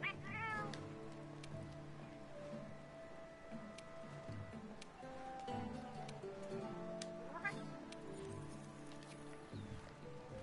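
A cat character in a video game meows several times, with clear, close, repeated cries over layered electronic game music and ambient tones.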